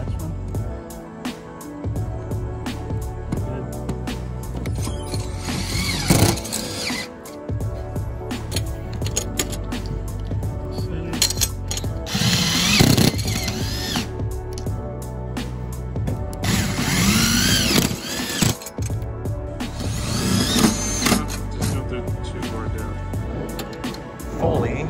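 A power driver tightens the fasteners of a solar panel being installed on a school bus, in several loud whirring bursts with pauses between them, over people talking nearby.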